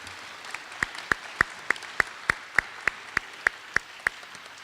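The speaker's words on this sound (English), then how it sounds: "Let's have another round of applause for all these academic achievers" Slow, evenly spaced single claps, about a dozen sharp and distinct, ring out at a middle-school academic awards ceremony honoring student achievers, with a faint room background between them.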